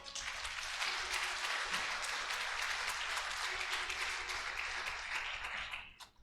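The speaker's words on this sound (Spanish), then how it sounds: "Aplauda a Cristo." A church congregation applauds for Christ during a Spanish-language sermon, a steady wash of many hands clapping that holds for several seconds before tapering off at the end.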